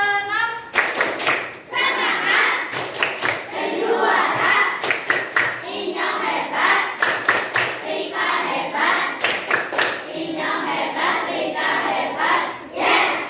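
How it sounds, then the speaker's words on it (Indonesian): A class of sixth-grade schoolchildren claps loudly in rhythmic bursts with a teacher, patterned group clapping and cheering repeating several times in a lively classroom. "tepuk tangan lagi yang meriah"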